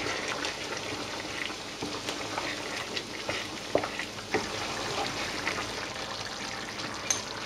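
Chicken seasoned with pepper sizzles and crackles steadily in a hot pan, a close, even frying hiss with occasional small pops and clinks throughout.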